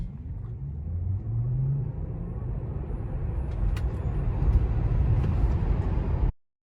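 A rear-wheel-drive Tesla Model 3 accelerating from 0 to 60, a steady low rumble of road and wind noise building gradually inside the cabin, smooth and continuous until it cuts off abruptly.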